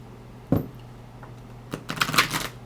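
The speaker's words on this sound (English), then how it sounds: "All right, I will shuffle." Oracle cards are shuffled by hand in a quiet room, with a sharp single riffle followed by a fuller flurry of papery slaps and flicks.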